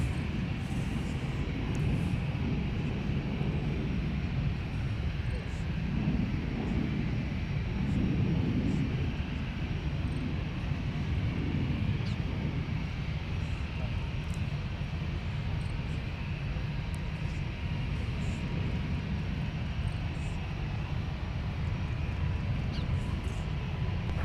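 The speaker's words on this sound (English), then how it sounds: "Runway 30 right, cleared for takeoff." An Air France airliner taking off from runway 30 right at Minneapolis–Saint Paul airport produces a sustained, distant jet engine roar with a broad rumble that holds steady throughout.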